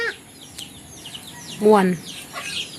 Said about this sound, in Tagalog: Ito'y manok.